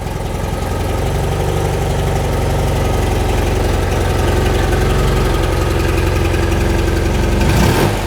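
A cold 1975 BMW R90S motorcycle engine idling on its own without choke, a loud, steady, close throbbing with a slight struggle, sustained throughout with a brief change near the end.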